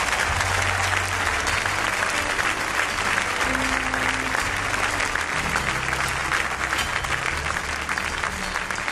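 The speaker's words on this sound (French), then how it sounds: "Là, j'ai entendu des applaudissements." A church congregation applauds in sustained, dense clapping that fills the space for several seconds at a steady loud level, with faint voices mixed underneath.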